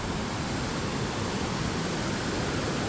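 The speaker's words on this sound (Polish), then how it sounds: "Wodospadownia, bo to jest bardzo dużo wodospadów." Many waterfalls at a public bathing spot, heard as a steady, dense roar of rushing water, broad and even with no other sounds.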